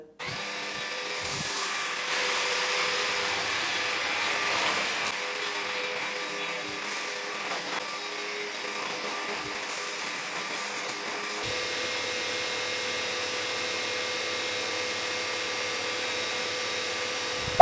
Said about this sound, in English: I'll be cleaning the rest in eco mode because I don't really need turbo mode